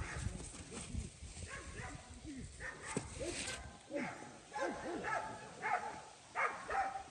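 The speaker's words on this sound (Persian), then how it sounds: "سگای باغ فکر کنم برای اون سگی که تازه اومده مهمون شده دارن اینجوری سر صدا میکنن" Several garden dogs barking and yelping at a newly arrived dog, bursts of barks and whimpers at moderate distance, coming in irregular clusters with a voice heard faintly among them.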